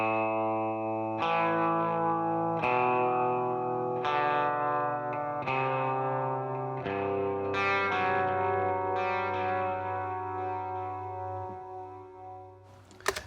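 Electric guitar in a studio mix with a delay effect, a sequence of sustained chords struck roughly every second or two, each ringing on with echoing repeats and a spacious, chorus-like shimmer, no talk.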